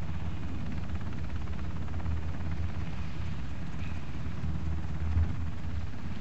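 A helicopter in the video game Ring of Elysium: a continuous low, droning rotor rumble that holds steady throughout at moderate loudness, with nobody talking.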